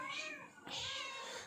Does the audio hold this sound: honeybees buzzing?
no